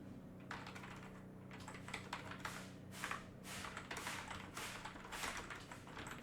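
Quiet, steady typing on a computer keyboard while entering header text in Google Docs, a soft continuous patter of keystrokes with slightly louder clusters.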